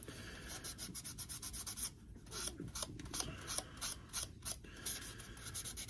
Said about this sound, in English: Take a 1000 grit sanding pad.